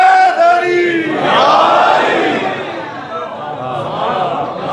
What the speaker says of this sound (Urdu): حسین کے نام نعرے نعرہ حیدری